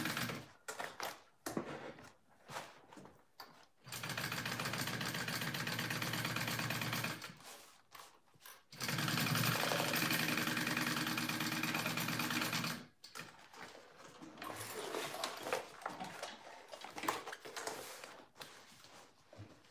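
A sewing machine stitches a bag lining in two long, steady runs of rapid mechanical chatter, separated and framed by short bursts and quiet handling noises.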